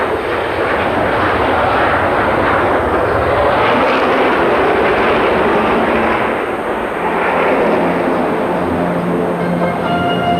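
A retired jet bomber passes by, a loud continuous broadband engine roar that swells and eases slightly over about ten seconds, with no talk.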